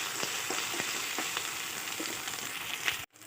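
Ginger paste fries in a pan with a moderate steady sizzle and a few soft stirring knocks, close by, ending abruptly after about three seconds.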